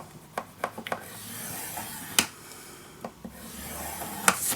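Paper is scored with a tool for a scrapbook pocket page: a series of short, close scraping strokes in quick bursts, with pauses between them and no talking.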